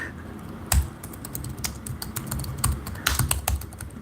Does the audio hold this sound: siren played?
no